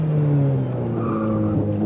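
A Ferrari 488 Pista brakes hard on a track with two downshifts. Its loud engine note steps down in pitch through the downshifts, and a brief tire squeal rises over it near the end.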